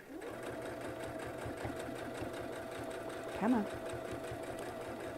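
A sewing machine runs steadily, stitching through batting and fabric for a notebook cover, with a continuous close mechanical whir the whole time. A person speaks briefly over it.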